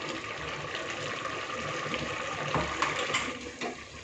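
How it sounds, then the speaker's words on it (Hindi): Water running steadily into a mixer jar coated with ground spices for a mutton curry, a continuous soft gushing pour at close range with no talk. "जो मसाले हमने मिक्सर जार में पीसे हैं और लगे हुए हैं, इसमें थोड़ा पानी मिलाकर मटन में डाल देंगे।"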